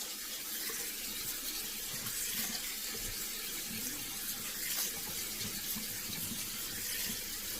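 Water runs steadily from a kitchen tap as cooked pasta for a Mexican pasta dish is rinsed in the sink, a continuous hissing splash that holds the same level throughout, with no voices.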